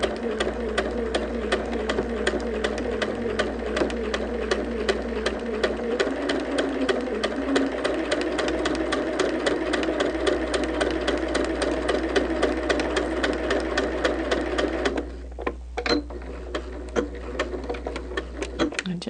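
A sewing machine stitches a mitered fabric border seam with a fast, steady mechanical chatter of needle strokes close by. It pauses briefly near the end, and a voice talks over it.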